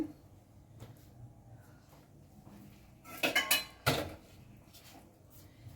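A metal lid lifts off a pot of boiling chicken soup with a few sharp clanks and clinks, loud against a quiet kitchen background.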